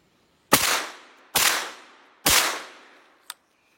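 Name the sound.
Armsan 636 .410 semi-automatic shotgun firing three reloaded shells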